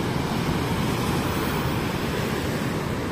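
Strong ocean waves near coral reefs give a steady, loud broadband roar of surf that holds constant throughout, with no distinct breaks or voices.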